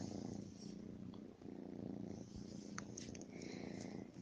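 A pet cat purring steadily and close by indoors, a low continuous rumbling throb with a few faint clicks and rustles over it, no talking.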